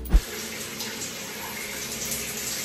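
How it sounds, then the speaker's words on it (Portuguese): Shower water running steadily in a home bathroom, a continuous broadband hiss of spray after a brief low thump at the start, close and moderately loud throughout. "eu vim tomar banho aqui"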